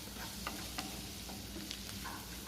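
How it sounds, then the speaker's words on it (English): Chicken and mushrooms sauté in a pan with a constant sizzle, broken by several light clicks and scrapes of a utensil stirring close by. "Now saute it properly."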